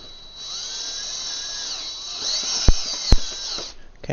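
Electric drill driving in during assembly of a Trak Racer TR120 sim racing rig, a steady whirring hum with two sharp louder bursts near the end.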